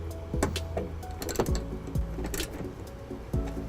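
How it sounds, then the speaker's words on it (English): A 10mm socket tightens a bolt during a 2019 Nissan Rogue trailer wiring install, giving a series of sharp ratcheting clicks and metallic taps in irregular bursts, close by. "we'll tighten it up with our 10mm socket"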